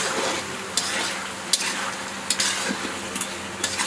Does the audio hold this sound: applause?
no